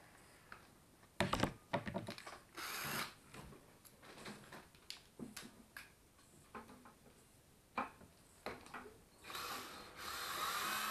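Tool clicks and ratchets in short bursts on the nuts of a Segway Gen 1 stand, loosening them with a T12 bit; the bursts are close and irregular, separated by quieter handling noise.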